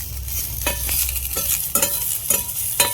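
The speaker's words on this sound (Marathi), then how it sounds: "मिरच्या तेल आणि लसूण टाकलं मिरच्या चांगल्या भाजल्यात मी" Green chilies and garlic roasting in oil over a wood-fired stove, close crackling sizzle punctuated by a handful of sharp stirring scrapes.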